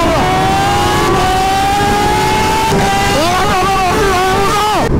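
A tuned sport motorcycle, either a Hayabusa or a Ninja ZX10R, accelerates hard on a Ladakh road, its engine tone climbing steadily and loud, then rising and falling through quick shifts near the end.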